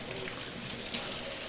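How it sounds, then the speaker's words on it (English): Tap water streams over a vinyl record being rinsed clean of soap, making a steady, close hiss of running and splashing water with no talking. "We'll go ahead and rinse this side off again to make sure that there's no soap anywhere on it."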